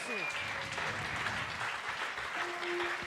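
Church congregation applauding in a bilingual French and Swahili service, a steady wash of clapping from the crowd, fairly quiet and distant, with faint tonal sounds through it.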